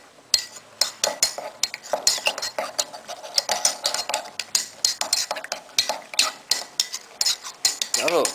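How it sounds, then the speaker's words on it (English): A spoon stirs a pink strawberry milkshake with raisins in a glass, giving quick, rapid clinks and scrapes that come close and fairly loud, in an irregular rhythm that runs throughout. "Give it a nice stir."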